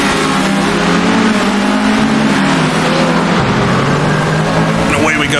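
An Alfa GTA race car engine in Assetto Corsa drones loudly and steadily as it accelerates at a race start, the pitch rising and shifting through gears with other cars around it.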